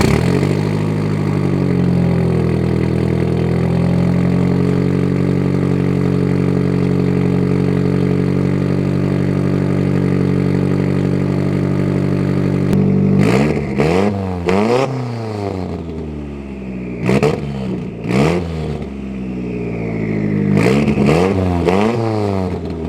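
Car engine fitted with a Garrett GTX2871R Gen 2 turbo and full exhaust, a long steady loud drone at high revs, then several sharp rev blips rising and falling in quick succession, close and powerful.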